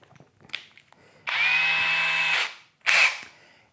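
Power drill boring a hole for a homemade Levistick juggling stick, a steady whining burst of about a second, a pause, then a second shorter burst, close and loud with faint handling clatter before.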